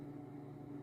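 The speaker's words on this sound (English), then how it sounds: "The heater just kicked on" A room heater running with a steady low hum and whir, constant and fairly faint, in a short stretch with no other sounds.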